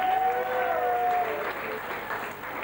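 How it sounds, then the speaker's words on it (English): An audience applauds a volunteer named Ryan after a physical-effect demonstration, giving a sustained round of clapping at moderate volume, with a brief tonal whistle sounding over the start. "Let's give Ryan a big round of applause"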